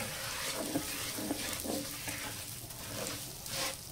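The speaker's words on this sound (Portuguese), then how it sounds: "E aqui vamos dourar o nosso arroz, vamos dar uma torrada nele." Rice toasts in melted butter in a pan for a creamy carne de sol rice dish, giving a continuous close, dense sizzle with light scraping from stirring.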